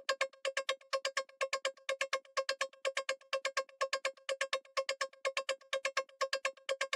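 Plucky synth lead from a tech house drop made in FL Studio, EQ'd and widened: a fast, steady rhythmic pattern of bright, harmonically rich stabs with a pumping sidechained feel, loud and alone.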